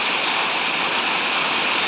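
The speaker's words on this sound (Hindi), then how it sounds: "देखते हैं कितने बड़े बड़े ओले यहाँ पे गिरने जा रहे हैं" Hail and rain pour steadily onto netted fruit trees in the hills near Kufri, Shimla, a dense, even hiss of falling ice and water with no pauses and no voices.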